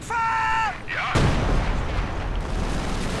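A heavy artillery blast from an ISU-152 gun booms in a Company of Heroes 2 battle, a sharp, loud crack that rolls out into a rumbling tail over a whistling shell sound and a busy battlefield din.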